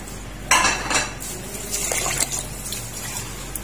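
Rice is washed by hand in water in a pot for matnjan, with sharp clinks and scrapes against the metal followed by sloshing and swirling water, close and clear with no talk.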